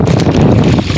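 Strong wind buffets the microphone on a small boat on rough, choppy sea. The roar is loud, close and unbroken, with no talk.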